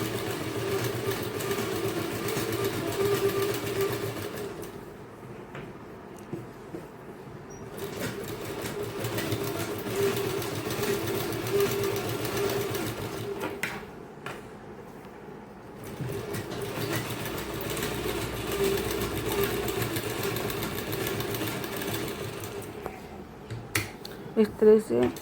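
A sewing machine runs in steady bursts while stitching fabric for a blouse (baju), with quiet gaps between runs, as someone talks over it throughout.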